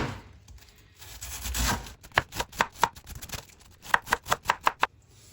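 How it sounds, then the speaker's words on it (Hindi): Cabbage being finely chopped with a knife on a board, a soft scraping start followed by two quick runs of crisp, rhythmic chops, close and fairly loud, with no talk. "आधा किलो यहाँ पे पत्ता गोभी मैंने ले लिया। अब इसकी करेंगे हम कटिंग।"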